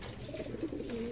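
Racing pigeons cooing in a champion fancier's loft in Batangas, soft low murmuring coos rising and falling steadily over a faint background hum across the whole moment.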